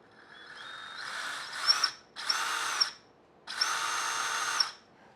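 Furitek Komodo Unity outrunner motor in an RC crawler spinning up in three bursts, a steady high whine with a tonal edge, close and loud, with short pauses between runs and no talking.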